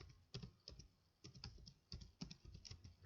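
Keys on a computer keyboard tapped in short irregular bursts with brief pauses between them, close and fairly quiet, with no voices.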